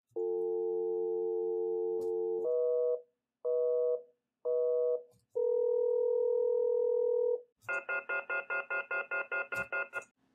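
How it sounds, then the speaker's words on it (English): Synthesized North American and UK telephone call progress tones play alone: a steady dual-pitch tone, three short repeating beeps, a longer held tone, then a rapid bright pulsing cadence of stacked tones, all clean and electronic. "North American and UK call progress tones"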